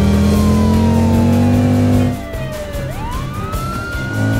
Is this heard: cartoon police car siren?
yes